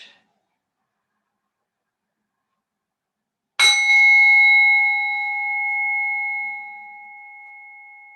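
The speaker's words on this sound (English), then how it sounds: "The sound of the bell." A single bell is struck once after near silence, ringing out clearly and then decaying slowly over several seconds to mark the start of a restorative yoga rest.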